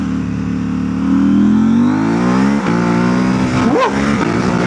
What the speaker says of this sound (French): On va se faire une petite accélération sympathique ici.